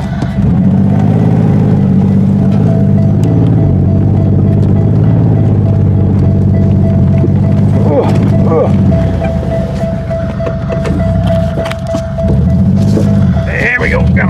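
An old boat engine runs steadily and loud throughout, a low rough drone with a faint whine above it, while people talk intermittently over it.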